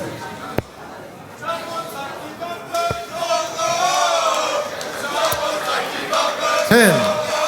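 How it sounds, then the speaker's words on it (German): A darts crowd sings a chant together in a large hall, the loud, wavering massed voices rising and falling over cheers, with a few sharp thuds and a commentator talking over it. "Chapeau zeigt die Wampe, wird hier gesungen vom Publikum."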